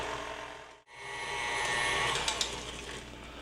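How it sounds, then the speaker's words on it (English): An electric stand mixer for a spice cake batter cuts out briefly, then restarts on slow speed with a steady, close whirring motor hum that builds and holds. "when starting up your mixer, always on slow speed"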